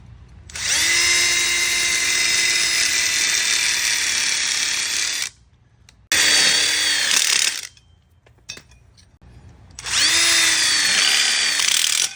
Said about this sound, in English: So first we screw in our one-ways to the ends